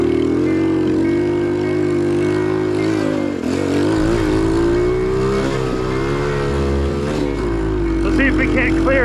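A cheap TEMU dirt bike engine at full throttle in third gear on a tabletop jump, buzzing loudly and steadily with pitch rising and dipping as the revs change, close up, with voices at times.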